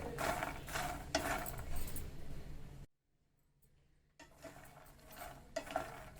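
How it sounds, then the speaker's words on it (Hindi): A spoon scrapes and stirs a healthy savory snack mixture as it roasts in a pan, making repeated gritty rattling strokes with a faint sizzle, broken by a short pause before the stirring resumes. "इसको हमें कंटिन्यू ऐसे चलाते हुए और भूनना है।"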